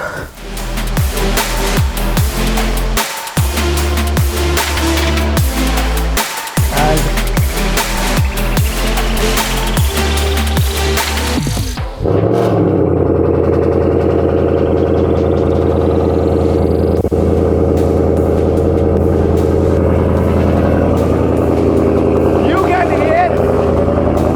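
A Ford Mustang GT500 engine fires up and runs with a loud, deep rumble. Steady throbbing is broken by a few short cuts, then it settles into a thick, continuous roar with a rising whine.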